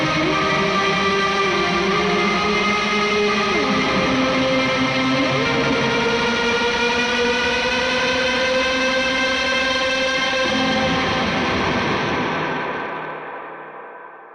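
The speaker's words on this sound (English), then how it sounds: "I'm going to add a little bit more drive. Let's turn on like the constant or something. And then I'm going to drench it in reverb." Electric guitar played through a Mercury X preset with extra drive and heavy reverb rings in sustained, distorted chords that swell and wash together, then fade into a long reverb tail at the end.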